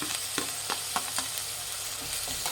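Onions and tomatoes frying in oil for tomato gojju give a dense, continuous sizzle, close up, with a few soft stirring strokes over it and no talking.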